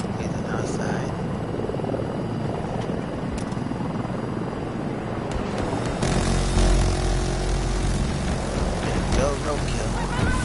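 A video game helicopter in Battlefield 2042 thrums steadily with a broad engine roar, growing slightly louder partway through, with faint voices talking underneath.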